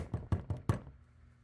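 A voice imitates a light one-finger knock on a door, four quick soft taps in a steady rhythm that fade into quiet room tone.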